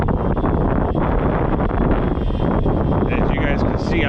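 Gusty wind buffets the microphone of a drone pilot flying an Ascend Aeronautics ASC-2450 HD video drone outdoors, a loud, continuous low rumble and roar that swells and dips without a break.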